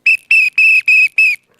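A whistle is blown by a child in a woods hiding game, five sharp, loud blasts in quick succession, each held briefly with short gaps between.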